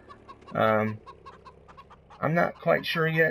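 Hens in the Farming Simulator 15 video game on PS4 let out two bursts of bright clucking, a short one first and then a longer run of clucks, while someone speaks quietly between them.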